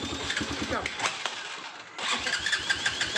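A Platinum 250 motorcycle with a slight fault is started: the engine cranks and catches, dips briefly, then fires up again and runs with uneven revving, loud and close, with a voice talking over it.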